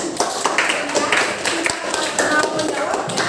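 A classroom of students claps together, a dense patter of hand claps that runs steadily throughout, with voices talking over it.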